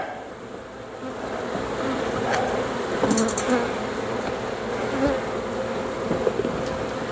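Honeybee nurse bees drone steadily from a horizontal hive during an inspection, a close, continuous buzzing hum with faint clicks and handling noises scattered through.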